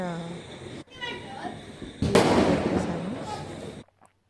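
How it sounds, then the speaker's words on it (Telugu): A firecracker bursts nearby with a loud crackling blast during Diwali celebrations, followed by fizzing and voices talking around it. "మా పిల్లలు ఇద్దరు క్రాకర్స్ కాల్చుకుంటున్నారు"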